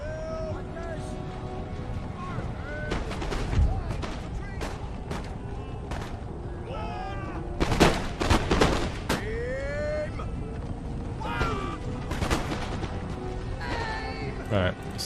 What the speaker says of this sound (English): if we stop the cannons firing